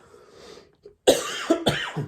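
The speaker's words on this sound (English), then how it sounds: "Still haven't got rid of all of this cough" After a near-silent moment, a person coughs sharply a few times in quick succession, close and loud.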